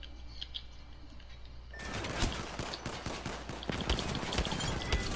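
Rapid bursts of automatic gunfire in an Apex Legends arena match, loud and close, starting abruptly after a quiet stretch and continuing as a dense, crackling stream of shots.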